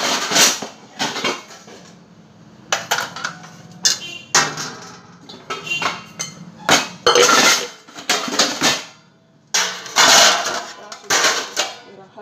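A big heap of dishes, pots and pans being washed and stacked, with repeated clattering, clinking metal and ceramic knocks in irregular bursts separated by brief pauses.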